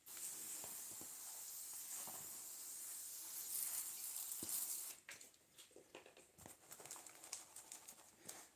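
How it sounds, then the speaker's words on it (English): A spray bottle mists water over the substrate of a reptile enclosure, a continuous close hiss for about five seconds, then gives way to softer scattered patter and light rustling. "spray it down, get it nice and wet."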